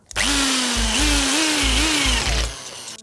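A handheld electric drill marks a starting hole in a bicycle frame tube during a gravel-bike conversion: a loud, close motor whine that starts abruptly, dips and rises in speed several times, then stops, with no talking.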